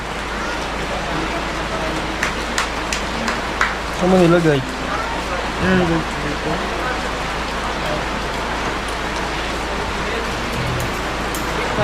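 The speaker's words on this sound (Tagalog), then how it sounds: "Abot na kami na ulan." Steady rain falls in a dense, continuous hiss outdoors, with people talking over it and a few brief knocks and clatters breaking through.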